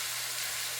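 Tomato paste with salt and black pepper frying in a pan for Guyanese-style cooking gives a short, steady, close sizzling hiss with no breaks.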